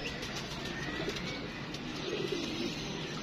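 Soft pigeon cooing, low and murmuring, repeating over a steady background hum with no talking.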